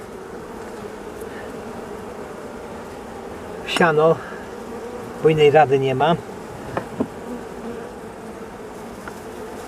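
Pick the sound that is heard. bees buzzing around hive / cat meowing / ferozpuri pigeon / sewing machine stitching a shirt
bees buzzing around hive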